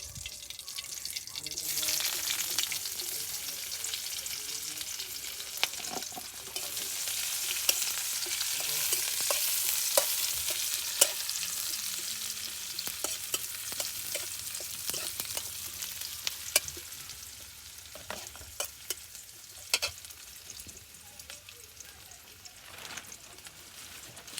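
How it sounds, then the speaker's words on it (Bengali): Onions frying and being stirred in oil left over from frying aubergine, a steady bright sizzle with scraping stirs and crackles throughout, close and moderately loud, no talk. "আমার পেঁয়াজ ভাজাটা হয়ে গেছে, লাল লাল হয়ে গেছে।"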